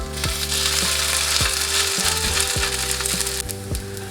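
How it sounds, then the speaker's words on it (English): Food sizzles steadily in a heated pan with a light coat of spray-on olive oil, a loud continuous crackle broken by a few sharp clicks and taps from utensils against the pan. "That's a nice sizzle."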